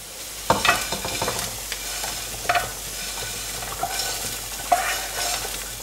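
Roasted vadas tipped into a thin, watery curry gravy, with stirring scrapes and clatter over a low steady sizzle, a few sharper knocks of the spoon against the pan, no talking.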